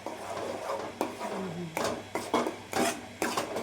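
Urad flour batter stirred in a pot, a run of scraping, knocking strokes of a spoon against the vessel in an uneven rhythm, close and moderately loud.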